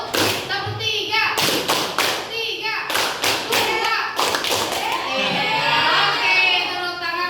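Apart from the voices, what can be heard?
students clapping in a rhythmic clap pattern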